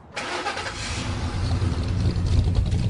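A 1965 Chevy Impala SS 396 V8 cranks and catches, then rumbles into a loud, close idle with rising revs and throaty pulses, alone without talk.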